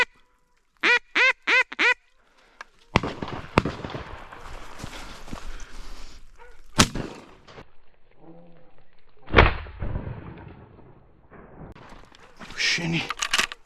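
Four rapid nasal quacks open a duck hunt, likely from a hunter's duck call, followed by loud gunshot-like bangs, rustling and a voice talking outdoors close to the microphone.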